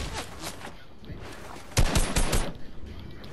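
Fortnite gunfire heard as a rapid spray of shots, faint scattered pops early, then a louder cluster of bursts midway that trails off into lighter shots.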